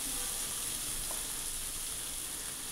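Tomatoes fry in a pan with a continuous bright sizzle that stays steady and fairly close throughout, with no voices.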